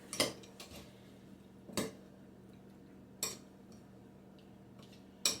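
Utensil clinks against a bowl while canned fruit in natural juice is mixed: four sharp, separate clacks spaced about a second or more apart, close and moderately loud over a quiet room hum.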